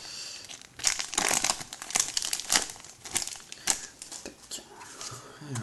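Pokémon booster packs from the Plasma Freeze set being torn open by hand, a run of sharp foil crinkles and rips in close, uneven bursts with short pauses between.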